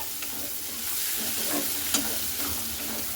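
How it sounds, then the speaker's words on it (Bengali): Onion and garlic frying together in a pan while being stirred, a steady close sizzle with soft scraping stirs, no voices. "পেঁয়াজ আর রসুনটা একসঙ্গে কিন্তু ভেজে নিতে হবে এইভাবে"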